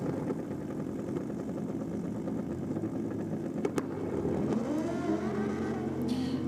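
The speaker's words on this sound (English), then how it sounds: "Here the two steps popping away, and Buggy loose in the rear tyre." Nitro drag racing motorcycles, among them a Suzuki Hayabusa, rumble nearby at a drag strip with rough, popping engine notes on the two-step rev limiter. A rising engine whine builds toward the end.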